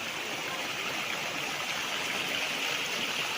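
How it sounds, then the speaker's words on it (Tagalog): A natural spring on a farm lot in Lucban, Quezon flows as a steady, close, full rush of running water that never lets up. No voices are heard over it. "At meron itong mga bukal mismo sa property"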